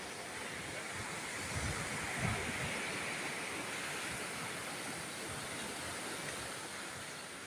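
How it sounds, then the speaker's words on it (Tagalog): Ocean waves washing onto a damaged beach hangout spot, a continuous, soft, hissing surf with only a slight swell near the middle and no distinct breaking crashes. "Hindi na siya masyadong malakas yung alon mga kapaa."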